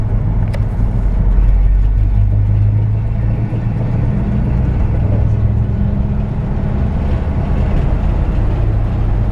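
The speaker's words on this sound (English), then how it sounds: "Nice and straight driving truck." A 1966 Ford F100 pickup truck cruising along a road, with a steady, loud low engine drone and road rumble that holds evenly throughout, with no talking.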